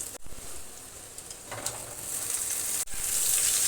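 Potatoes and pointed gourd sizzle steadily in hot oil in a pan for a potato and pointed gourd curry, a continuous close hiss broken by two brief stir clatters.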